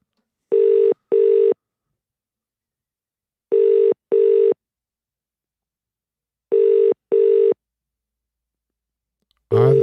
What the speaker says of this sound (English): How long should I let it ring for?